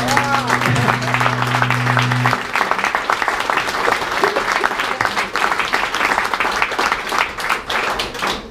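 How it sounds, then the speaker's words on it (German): Lively audience applause at an anniversary event, dense and continuous throughout, with a sustained musical tone sounding beneath the clapping during the first couple of seconds. "Das hat einen Applaus verdient."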